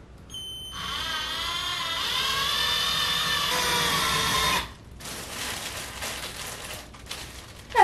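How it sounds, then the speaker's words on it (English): A power drill whines loudly and steadily for about four seconds drilling holes into a wall for shelves, then cuts off, leaving quieter rattling and shuffling nearby. "Let's hopefully drill all of these holes in the right place."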